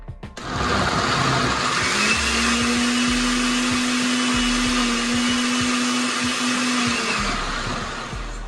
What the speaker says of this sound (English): Got it in the blender. Just gonna puree it to your consistency.